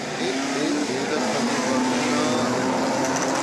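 Loud, dense roar of racing car engines at a race start at the Circuit des Remparts, blending together, a steady wall of revving and accelerating sound with no pauses.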